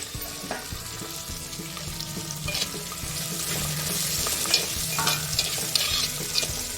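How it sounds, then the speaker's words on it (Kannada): Carrots, cabbage, curry leaves and green chillies frying in a pan for oats kichidi, with a soft continuous sizzle, occasional stirring scrapes and faint water-like clatter in the background. "ಈಗ ಇದೆಲ್ಲ ಫ್ರೈ ಮಾಡ್ಕೊಳ್ಳೋಣ."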